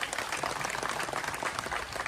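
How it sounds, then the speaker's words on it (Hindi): Villagers at an outdoor street play in Jharkhand clap together in a dense, fairly faint wash of applause heard from a distance. "अच्छा किए हैं तो एक बार आप ताली जोर से।"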